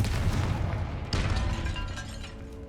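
A Confringo blasting-spell explosion in Hogwarts Legacy, a dense rumbling boom with a sharp crack partway through, loud and close, fading out slowly.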